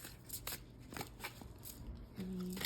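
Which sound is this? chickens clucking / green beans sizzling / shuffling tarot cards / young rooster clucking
shuffling tarot cards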